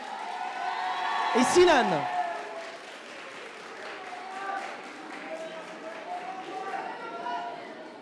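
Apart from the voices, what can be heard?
audience applause for students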